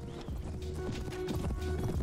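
Fast, rhythmic hoofbeats of a galloping horse in the game Prophesy of Pendor, steady and fairly loud, with a faint musical drone underneath.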